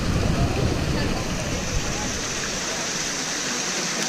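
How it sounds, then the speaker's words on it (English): Water splashing continuously in the Fountain of Four Rivers in Rome, a steady rushing wash heard up close with faint crowd voices in the background. "Fountain of Four Rivers."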